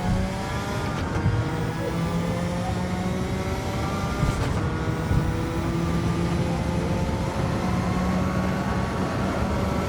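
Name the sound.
race car downshifting and accelerating, from a video game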